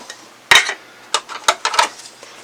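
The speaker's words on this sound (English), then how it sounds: "we'll pull out all these port covers" Plastic port covers are pulled from a Nintendo GameCube: a series of sharp, close clicks and snaps in quick irregular bursts, loud and dry with quiet gaps between, no voices.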